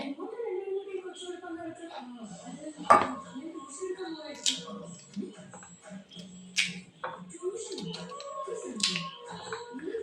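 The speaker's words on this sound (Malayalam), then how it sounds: "ഇത് നമുക്ക് നൈസായിട്ട് അരിയാം കേട്ടോ ഇങ്ങനെ അരിയാവേ" A knife cuts guava with scattered light clicks and taps close by, mostly under a person talking throughout.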